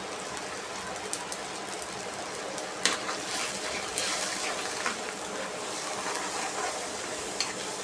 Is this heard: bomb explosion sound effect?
no